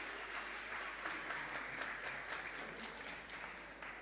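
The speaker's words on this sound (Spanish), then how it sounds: "También le damos un aplauso a José, que ha venido con Luciana, su niña." A church congregation claps in welcome during a service, a fairly quiet, sustained wash of many hands with a few sharper claps standing out, heard from a distance over a low hum.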